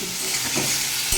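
Spoon scrapes through snake gourd and sesame paste in a frying pan over a constant sizzle, with a brief louder knock near the end and no voices.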